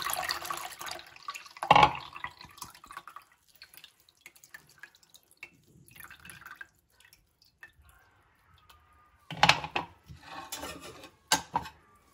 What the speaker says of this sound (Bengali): এবার একটু তেঁতুলের জল করে রেখেছি, এটা ছাঁকনিতে ছেঁকে এখানে দিয়ে দিচ্ছি।